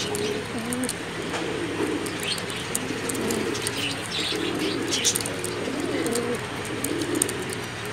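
A pair of pigeons coo in low repeated rolling phrases close by, with sharp chirps and faint clicks in the background.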